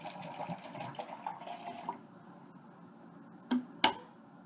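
Water poured out of a HidrateSpark PRO stainless steel bottle, a quiet splashing trickle for a couple of seconds, then silence broken by two sharp clicks or taps, close and faint.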